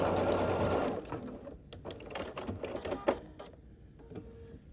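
A sewing machine stitches a quilt block seam in a steady, close, fast run for about a second, then slows into short intermittent bursts of stitching with small clicks and handling noises.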